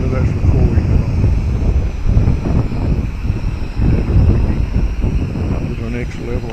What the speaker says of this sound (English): See, that's right, the wind. It's crazy, crazy, crazy.